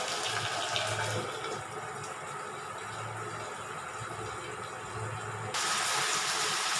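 Cluster beans fry in hot oil in a pan just after a small splash of water, giving a steady broadband sizzle and hiss that brightens sharply near the end.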